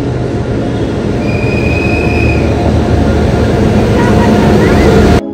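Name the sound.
train arriving at a station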